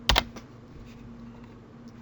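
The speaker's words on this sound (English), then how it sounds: "hit P on the keyboard" A single key press on a computer keyboard, a sharp close double click near the start followed by faint quieter tapping against a low electrical hum, with no voices.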